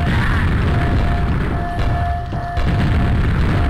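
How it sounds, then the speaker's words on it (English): A fiery ogre explosion effect in a video game, a loud, dense roaring boom with rumbling low texture sustained through the whole stretch, briefly dipping before surging again. "now we have the ogre explosions"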